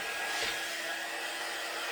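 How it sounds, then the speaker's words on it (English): A handheld dryer tool blows steadily on chalk paint on a wooden sign, a constant close, breathy whoosh that runs unbroken without any talk. "hit this with my dryer tool."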